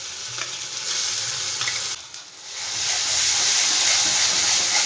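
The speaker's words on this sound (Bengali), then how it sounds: "ভালো করে একটু নাড়াচাড়া করে দেবো।" Onion paste with ginger-garlic paste fries in a pan with a loud continuous sizzle and hiss, stirred around, briefly dipping quieter midway before the frying swells again.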